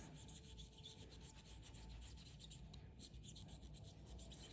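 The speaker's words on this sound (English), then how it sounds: "tap it onto the sticky layer and then rub it in" Nail art powder rubbed into the sticky gel top layer on a fingernail, a steady soft close-up rasping friction with quick repeated strokes and no talking.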